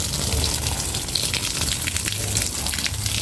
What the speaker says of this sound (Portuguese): Eu jogo um pouquinho de água no pé dele.